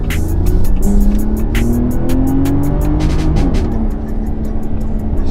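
A 2025 pickup truck downshifts into second gear at about 20 mph, heard from inside the cab as a steady, loud engine drone with road rumble whose pitch shifts partway through.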